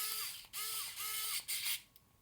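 A screwdriver tightening a screw on a display base, a few short whirring, grinding turns close by with brief pauses between them, quiet and isolated.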